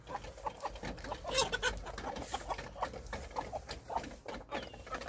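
Hens in a coop with brooding mother hens, giving soft repeated clucks and short murmuring calls in an irregular rhythm, close by and fairly quiet, with a few louder squawky notes.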